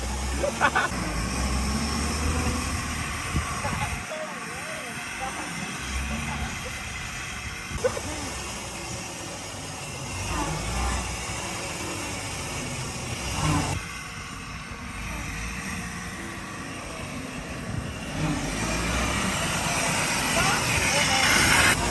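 A 1927 Chrysler sedan's old engine runs and drives with a rough, rumbling drone, steady and fairly close, while excited voices talk and shout over it throughout.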